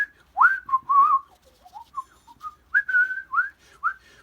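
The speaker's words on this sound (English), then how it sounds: "Or if you whistle" A person whistles a wandering, breathy tune in short melodic phrases while painting with watercolours, close and fairly quiet, with brief pauses between notes.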